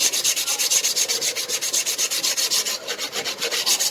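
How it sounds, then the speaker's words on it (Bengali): Steady back-and-forth rubbing to smooth a surface on a homemade planted aquarium light, an even, rapid rhythmic scraping stroke repeating about six times per second, close and fairly loud with no voices. "আমরা ঘষে নিচ্ছি।"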